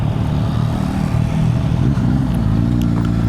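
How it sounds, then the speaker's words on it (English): Motorcycles pass on a steep mountain road, their engines droning and revving nearby in a steady, loud rumble mixed with road and wind noise, with no talk. "Couple of motorcycle guys."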